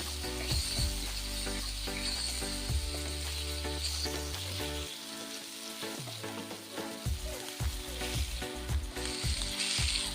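Fish frying in a pan while being turned and stirred, a loud steady sizzle broken by scraping and knocking of a spatula against the pan.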